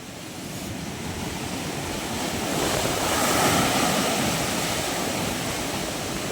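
Sea waves surge against a flooded beach hut in a constant broad wash that swells to a peak midway, then eases slightly.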